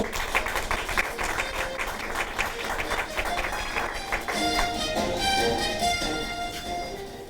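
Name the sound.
applause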